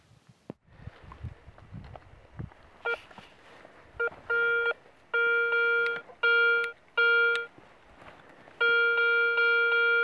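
A Garrett Ace 350 metal detector sweeps over a forest clearing and gives a series of sharp electronic tones: short bursts first, then longer steady beeps, clear and close over quiet outdoor rustle.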